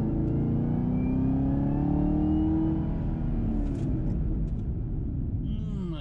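A Chevrolet Camaro ZL1 1LE with a 3-inch catback exhaust accelerates hard during brake bedding, a loud sustained engine drone rising in pitch from inside the cabin, with a voice speaking briefly near the end.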